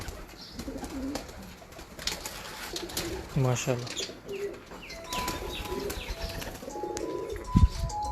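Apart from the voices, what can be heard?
pigeons cooing and flapping wings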